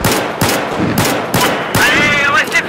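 Pistol gunfire in a video game, five or six sharp, loud shots spaced about half a second apart, followed by a brief whining tone near the end.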